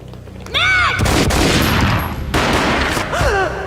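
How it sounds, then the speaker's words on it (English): Gunfire in the video game Max Payne bursts out as a heavy boom followed by a sustained roar of shots, amid other effects and a brief vocal cry near the start and end. "A gunshot boomed and she fell down in slow motion."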